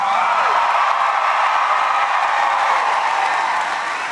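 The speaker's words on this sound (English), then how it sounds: "you are a loud crowd" Large crowd at a political rally in Charleston, South Carolina, roaring with sustained cheers and applause in a loud, continuous wash of voices and clapping that fades slightly at the end.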